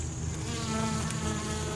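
Honey bees at a hive during a honey harvest, workers dragging drones out: a dense, steady, close buzzing hum of many bees, continuous throughout, with no talking.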